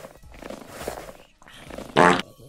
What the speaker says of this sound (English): it just made a fart sound